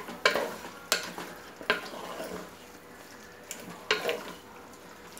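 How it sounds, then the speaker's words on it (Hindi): Chicken pieces, washed in turmeric, cooking in a pan for white pulao, with several sharp stirring scrapes and clatters over a steady low sizzle, fairly close and with no talking. "थोड़ा इसमें पकाएंगे फिर मसाले डालेंगे।"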